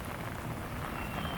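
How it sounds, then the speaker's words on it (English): Steady rain falls outdoors as a continuous, even hiss of drops with no other sounds or voices. "It's still raining, but it's so pretty."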